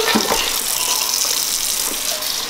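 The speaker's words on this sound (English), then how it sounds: "the easy way to, to kill them, run some warm, some hot water on them" Hot tap water pours steadily over live crabs in a kitchen sink, a continuous close splashing gush that runs alone throughout.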